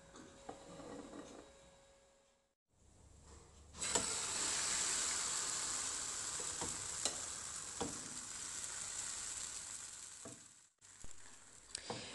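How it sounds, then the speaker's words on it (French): Crêpe batter poured into a hot pan brushed with vegetable oil, bursting into a steady, bright sizzle that holds for several seconds with a few scraping knocks, loud and close. "Je verse une louche de pâte."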